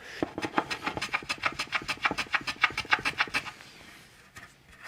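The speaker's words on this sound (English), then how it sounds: "I need to put little chamfers on all of these edges right here" Edges of wooden kitchen cabinet doors being chamfered by hand, a quick run of about twenty rhythmic rasping strokes, close and moderately loud, fading out at the end.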